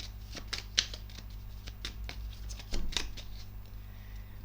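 Tarot cards being shuffled by hand in scattered soft riffles and slaps, faint and close over a steady low hum.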